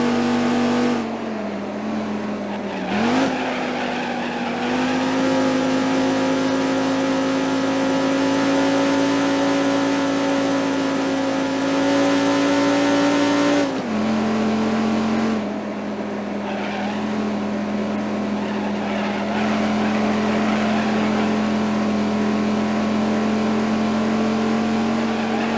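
A stock car's racing engine in the 1998 video game Viper Racing roars steadily and loudly, holding a sustained high-pitched drone with a few abrupt shifts in pitch as it changes gears, with no talking.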